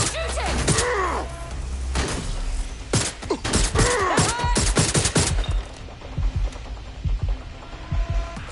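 Sharp bursts of rapid gunfire crack repeatedly through a PS4 shooter game, clustered volleys over a rumbling, creaking background with short pauses between them.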